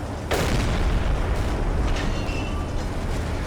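A deck-gun shell bursts against an enemy ship in Silent Hunter 3, with a sudden loud boom followed by a sustained heavy rumble and roar, no voices.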